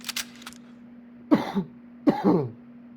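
Two harsh coughs a second apart, close and loud, preceded by a few faint clicks over a low steady hum.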